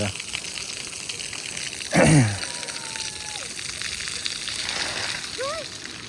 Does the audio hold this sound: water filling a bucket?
yes